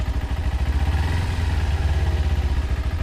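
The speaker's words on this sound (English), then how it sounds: "Go ahead and lightly turn the throttle." Motorcycle engine running steadily with a low, even throb as the throttle is eased open in light turns, close up and loud throughout, with no voices over it.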